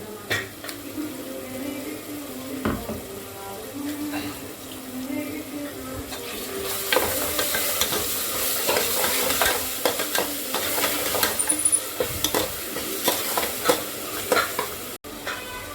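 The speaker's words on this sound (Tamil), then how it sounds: "அரைச்சி மிக்ஸியில் போட்டு அரைச்சி வச்சுருக்க பேஸ்டெல்லாம் சேர்த்துக்கலாம்" Thick ground masala paste sizzling in a hot pan while being stirred for mutton kulambu, with scraping strokes and a crackling hiss that intensifies partway through.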